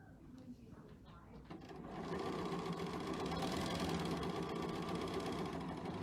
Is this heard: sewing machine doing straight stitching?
yes